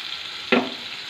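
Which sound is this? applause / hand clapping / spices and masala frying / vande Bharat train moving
spices and masala frying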